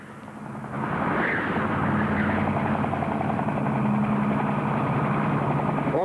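A helicopter idles and spins up nearby, a loud steady engine drone with a low rotor throb that swells after the first second and holds evenly throughout.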